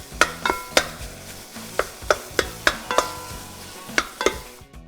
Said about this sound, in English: We're gonna dump in our ground beef in here and just break it apart as you cook it down.